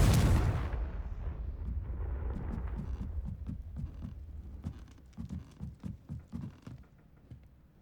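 A Confringo fire spell bursts in Hogwarts Legacy with a loud, booming blast that rolls off into a rumbling tail, then a run of rapid, rhythmic low thuds and crackles that fade toward the end.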